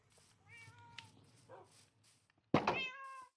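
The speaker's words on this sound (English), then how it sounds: "I can hear Lily already meowing at us." A house cat named Lily meowing several times, soft rising calls early on, then a louder, longer meow near the end, close and otherwise quiet.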